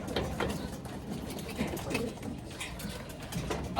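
Racing pigeons arriving at a home loft after a 182 km race from Cabanatuan, Nueva Ecija, cooing softly amid light outdoor background noise, with faint voices nearby.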